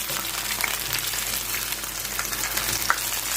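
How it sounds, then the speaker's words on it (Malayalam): Jackfruit pieces fry in hot oil as chakka pori, a steady dense sizzle with a few small pops, close and continuous throughout. "നല്ലോണം തിരിച്ചിട്ട് നന്നായിട്ട് മൂക്കുന്നവരെ കുറച്ച് വേവിക്കുക"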